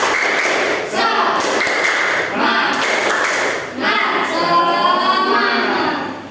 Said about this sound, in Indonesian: yuk kita semua sama-sama tepuk semangat ya